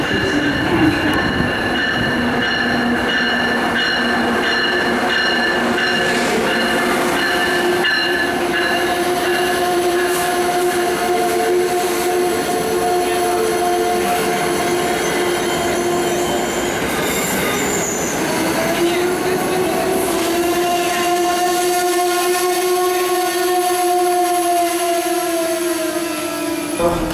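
Amtrak passenger train at a station platform, loud and close, with sustained metallic wheel squeal and rumbling tones that shift in pitch as the cars move, with no talk.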